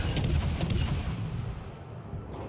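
Naval gunfire in the World of Warships Legends video game: heavy booming salvos with a dense rumbling roar that stays loud and sustained, slowly decaying toward the end.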